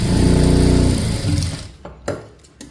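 A sewing machine stitches a churidar pant seam in a loud, fast, steady run up close that stops after about a second and a half, followed by a few sharp clicks and thread handling.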